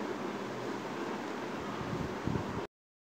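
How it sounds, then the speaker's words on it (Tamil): Whole spices, lightly crushed cardamom among them, sizzle steadily in hot oil in a pan, a dense even crackle close by that cuts off abruptly near the end. "இப்போ இது எல்லாமே நல்லா பொரியட்டும்."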